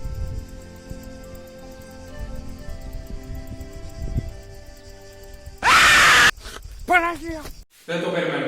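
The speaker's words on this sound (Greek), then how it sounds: "στο τέλος πεταγόταν ένα ζόμπι, μιλάμε, το οποίο έβγαζε μια τσιρίδα" A zombie in a 2000s jump-scare video lets out a sudden loud, harsh screech after a quiet, low rumbling stretch, followed by shorter shrieking cries near the end.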